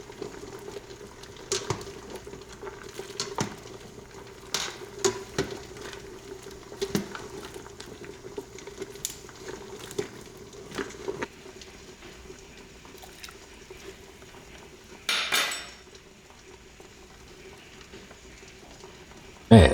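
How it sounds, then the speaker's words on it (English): A pot of pineapple skin tea with cinnamon sticks boiling, a soft continuous bubbling with irregular patter and small clinks from stirring, quiet and close, with a brief louder scrape near the end. "Boil for about 30 minutes. You can check it about halfway through and give it a good stir."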